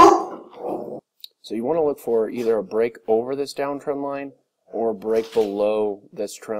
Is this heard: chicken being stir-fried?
no